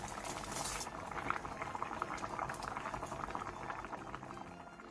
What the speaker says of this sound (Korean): 국물이 바글바글 끓어오르면